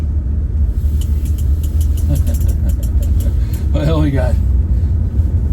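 A 1988 BMW 535is E28 running and driving, a low steady engine rumble with road noise from inside the car, and someone talking briefly over it.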